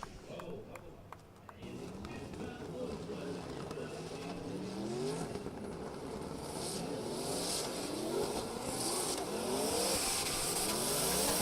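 Drift cars at the Oman International Drift Round 3 Top 32 battle, engines revving and wailing with shifting pitch and tyres squealing, loud and continuous under a commentator's steady talk.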